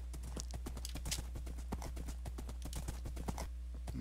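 Galloping horse hooves in a video game, a quick steady clip-clop rhythm of many close hoofbeats running for several seconds over a constant low background drone.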